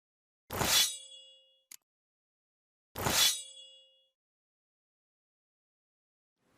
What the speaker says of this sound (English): Apologies if you heard my phone go off there.